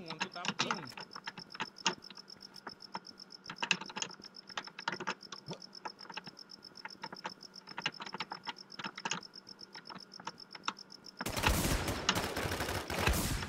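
Rapid bursts of gunfire in the video game Infestation crackle over steady keyboard typing, ending in a loud dense volley of shots.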